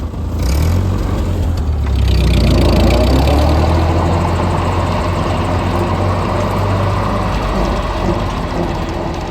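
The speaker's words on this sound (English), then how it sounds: "let me engage the PT here and get her spun up." A tractor's power take-off engages and spins up a farm implement. A loud, close mechanical drone with whirring and ratcheting runs steadily throughout, and no one talks.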